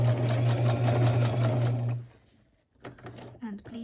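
A home sewing machine stitches a leather bag lining in a fast steady whirr for about two seconds, then stops, followed by brief handling sounds and a voice speaking.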